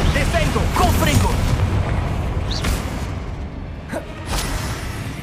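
Confringo spell blast in the video game Hogwarts Legacy: a bright fiery burst with a booming impact over busy combat noise, someone talking at the start, then smaller pops and whooshes later.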